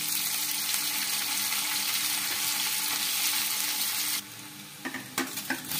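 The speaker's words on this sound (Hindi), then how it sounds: "अब डालेंगे प्याज और प्याज को अच्छे से भूनेंगे।" Cumin, ajwain and onions frying in an iron kadai: a dense, loud, continuous sizzle, followed near the end by a few sharp scraping stirs against the pan.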